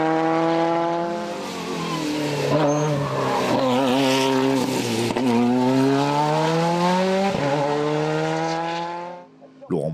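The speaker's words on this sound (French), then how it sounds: "Christophe Poinsignon fait triompher son Simca CG Turbo en FC." A Simca CG Turbo rally car races up a hill climb, its engine screaming loudly and close with rising and falling revs through gear changes, sustained for about nine seconds before cutting off.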